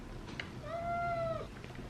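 A cat gives one clear, drawn-out meow, close and fairly loud, with a few faint chirpy sounds before and after it.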